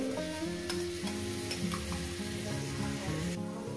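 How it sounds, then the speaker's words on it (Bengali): Stuffed snake gourd fries in a pan with a steady close sizzle, accompanied by occasional soft stirring scrapes and clinks, with no talking. "ভালো করে সুন্দর করে আমি এটাকে ভেজে নেব"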